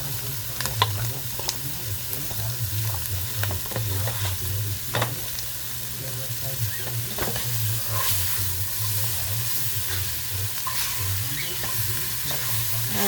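Lamb pieces searing and browning in a hot pan give a loud, steady, close sizzle with scattered crackles throughout, and no one speaks.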